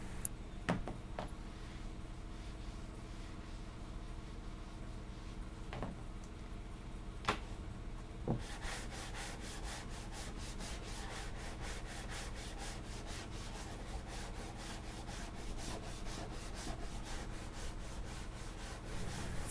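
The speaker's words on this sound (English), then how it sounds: "the sanding blocks are really good at helping you get it flat and true" Steady abrasive rubbing of a hand sanding block over filler on a boat hull, continuous and close, with a rougher, more rhythmic scraping in the second half.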